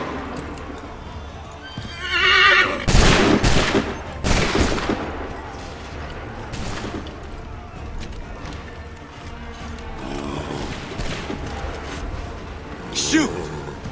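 A musket volley crackles in Assassin's Creed III as a burst of overlapping shots, followed by further scattered reports, with horses whinnying and hooves clattering and voices shouting around them.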